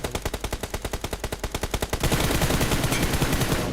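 UMP submachine gun fired in a mobile battle royale shooter, a rapid, loud, evenly spaced burst of shots that thickens into a dense continuous stream of overlapping gunfire, with no talk.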